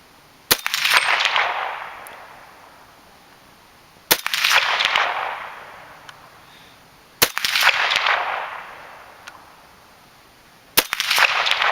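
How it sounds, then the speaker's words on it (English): Four sharp, loud M1 carbine rifle shots from an Israeli-return gun imported by Century Arms, evenly spaced a few seconds apart, each with a long bright echo rolling off outdoors. "for the carbine, I'm going to be shooting just 5 rounds at a time out of it"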